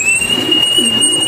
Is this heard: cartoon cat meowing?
no